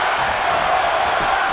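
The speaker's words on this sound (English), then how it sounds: "And you hear the crowd going crazy." A wrestling event crowd roars in a dense, sustained wall of cheering and shouting, loud and continuous across the short moment with no distinct voice on top.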